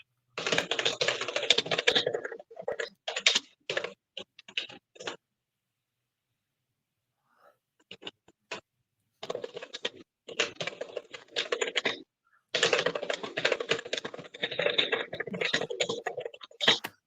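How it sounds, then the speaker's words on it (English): Bursts of rapid typing on a computer keyboard, close and crisp, broken by several pauses of silence before the clattering keystrokes resume at full pace. "She's still typing."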